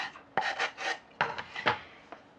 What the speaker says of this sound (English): I've got a sanding block, and some of these are rough, so you want to get the roughness